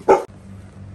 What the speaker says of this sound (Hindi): बहू कर दे एक बार, बहू कर दे।